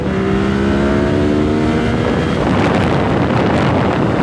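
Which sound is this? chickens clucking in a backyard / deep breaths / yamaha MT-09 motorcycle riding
yamaha MT-09 motorcycle riding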